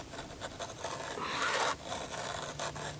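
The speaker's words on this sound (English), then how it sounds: "sharpening." A hand file rasps along a chainsaw chain in quick repeated strokes, close and fairly quiet, with one longer, louder stroke in the middle.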